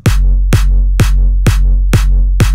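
Kick drum with a short, quick-attack clap layered on top, hitting six times in a steady beat about every half second, loud and dry with a booming low end under each snappy clap.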